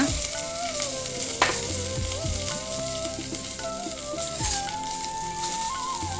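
Peeled garlic drops into hot oil with fennel seeds and curry leaves, crackling and sizzling loudly up close, with a few spoon stirs and scrapes and no talking.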